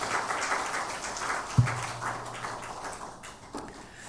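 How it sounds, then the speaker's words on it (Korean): Congregation in a university church Sunday service applauding the choir, a soft diffuse patter of clapping with one louder thump, fading out near the end. "은혜로운 찬양해 주신 성가대원들에게 다시 한번 감사의 박수하겠습니다"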